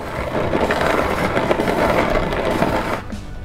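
A hand mill grinds spelt grain on its coarse setting, giving a steady, close crunching and rasping that runs continuously for about three seconds before easing off.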